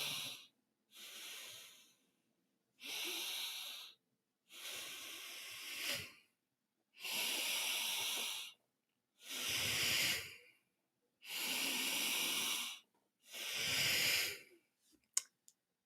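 Three slow nasal breaths, each inhale and exhale a separate airy hiss with short silent gaps, close and fairly quiet, demonstrating abdominal breathing during a fitness lesson.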